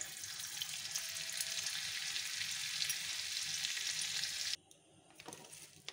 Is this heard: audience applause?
no